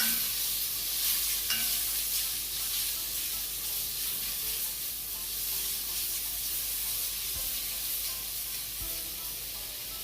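Rice being stirred and coated in curry in a hot pot for coconut yellow rice, a steady close sizzle and hiss with soft scraping strokes throughout, no talking.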